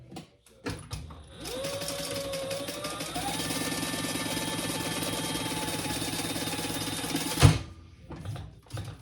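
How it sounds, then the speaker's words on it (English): A sewing machine stitches across the bottom of a Run Around crossbody bag, a steady close mechanical whir running continuously for several seconds after brief handling noises, then stopping abruptly with a clunk. "we're gonna lift this up and just sew across the"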